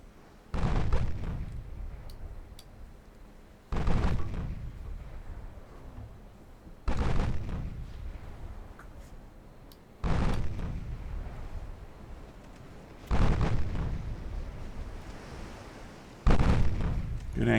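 Six heavy booming salvos from the guns of the warship Bridgeport in a naval video game, evenly spaced about three seconds apart, each a loud blast fading into a rumbling tail.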